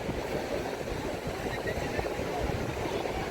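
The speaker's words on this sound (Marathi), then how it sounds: "समुद्र खवळलेला आहे" Rough, churning sea surf roars at Murudeshwar beach in Karnataka on a rainy day, a dense continuous wash of waves mixed with wind buffeting the microphone.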